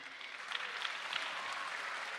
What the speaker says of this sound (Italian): L'applauso per questi giovani protagonisti di Sardegna